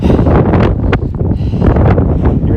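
Strong gusting wind buffets the microphone on a hilltop trail on Mt Helena, a loud, continuous roar with rising and falling surges throughout, and no clear voices.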